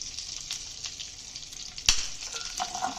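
Cumin seeds and chillies sizzling in hot ghee, a soft, steady frying hiss with a sharp clink or pop near the middle and light stirring.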